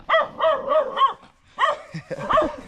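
Several dogs bark outdoors in short repeated bursts, close and fairly loud, with quick yips running together into two clustered volleys.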